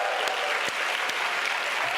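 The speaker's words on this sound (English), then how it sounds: "May we please give them a big round of applause." Conference audience applauds in a close, loud, steady burst of many hands, with a few sharper individual claps popping out of the dense wash.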